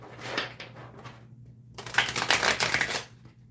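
A new, slightly thick tarot card deck is shuffled close up, two bursts of crisp riffling and flicking cards separated by a short pause.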